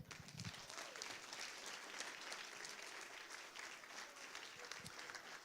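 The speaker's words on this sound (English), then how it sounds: "so please give yourselves a round of applause" Steady applause from members of a citizens' assembly at a meeting in Dublin, even clapping sustained throughout at moderate level with no talk over it.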